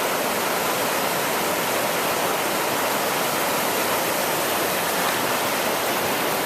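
Floodwater of the Green River in Greenfield, Massachusetts roars after Tropical Storm Irene, a steady, loud broadband rush of churning current with no pauses and no voices.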